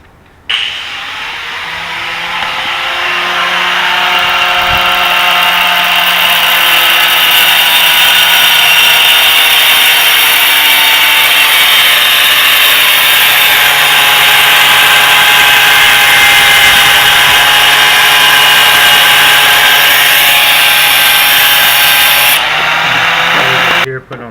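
A power tool cuts steadily and loudly for over twenty seconds during clutch line work on a Honda or Nissan car, its whine holding at a near-constant pitch before spinning down at the end.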